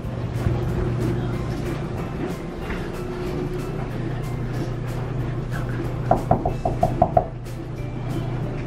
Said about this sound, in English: let me knock on the door